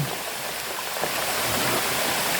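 A river splits into two branches near a cave tunnel, and its flowing water makes a steady, broad rushing wash. The sound stays continuous and fairly loud throughout, with no speech over it.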